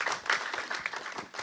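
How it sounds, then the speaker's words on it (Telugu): An audience at a Telugu film trailer launch event claps in a steady, moderately distant burst of applause that stays continuous throughout. "మా సార్కి ఇంకోసారి క్లాప్స్"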